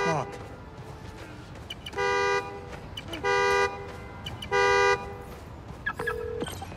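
In Spider-Man: Miles Morales, a car horn honks three times at a steady pace, clear and fairly loud above a busy city ambience, with brief game sounds around the honks.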